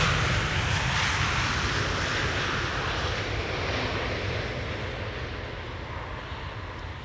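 A Turkish Airlines airliner arriving on the Polderbaan runway at Schiphol, its engines roaring as a loud, steady broadband rumble that slowly fades as it passes.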